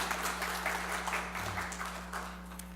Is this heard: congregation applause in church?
yes